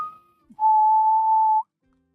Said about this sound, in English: whistled the 4 notes from Hunger Games